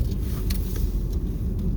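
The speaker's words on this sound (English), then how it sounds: "Let's see where this car going." A car on a road in the Philippines passes with a steady, close low rumble and road noise over about two seconds, with no talking.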